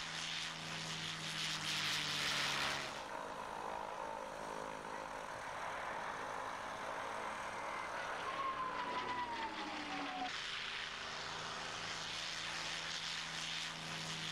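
A P-51 Mustang's propeller engine drones steadily and moderately loud through the air, with a pitch that sweeps downward as the plane passes.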